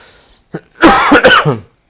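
A single close, loud cough, a sharp throat-clearing burst following a short breath.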